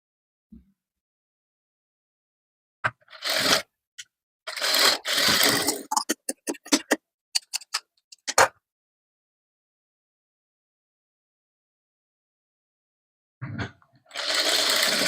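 Sewing machine stitching a princess cut padded blouse, loud close bursts of rapid needle chatter that start and stop in short runs, separated by long silences.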